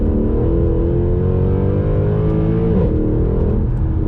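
A Mercedes C63 AMG engine revs high and loud in second gear, pitch climbing steadily, then briefly dipping as it shifts up before rising again.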